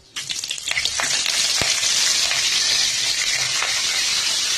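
Mustard seeds, urad dal, broken dried red chillies and curry leaves hit hot oil for a banana curry tempering, bursting into a loud, steady sizzle with sharp crackles and pops, close and continuous with no talking.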